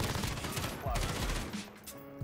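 Gunfire from a weapon in the video game Modern Warfare during free-for-all play, a dense burst of rapid shots filling most of the clip with no talk over it.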